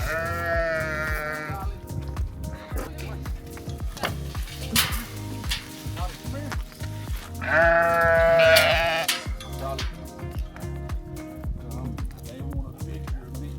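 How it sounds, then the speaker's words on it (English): A goat bleats loudly and nearby in wavering calls at the start and again midway, mixed with handling noise, shuffling and a person talking outdoors. "Oh, that sounds like a goat."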